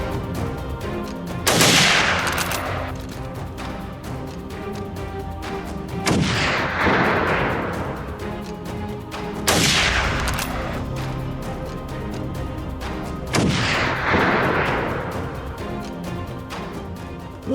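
Gunshots fired across an open field during hunting: four loud, heavy blasts spaced several seconds apart, each with a long rolling echo and decay between them.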